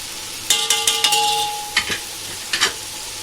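Whole spices fried in a large biryani deg over a fast gas flame, a bright sizzle marked by several quick metallic scrapes and knocks of a ladle against the pot.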